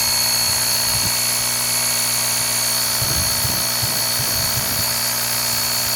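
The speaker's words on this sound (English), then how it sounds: "now this does have a 150 psi air compressor in it" A portable 150 psi air compressor in a jump starter unit runs steadily while inflating a vehicle tire, a constant close mechanical whine and buzz with a few brief knocks partway through.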